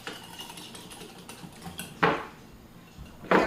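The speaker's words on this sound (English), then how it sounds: "Okay, so we're whisking, we're emulsifying." Honey lime vinaigrette dressing being whisked in a bowl in a home kitchen, a light steady clatter of whisk against the bowl with two louder scraping clinks standing out.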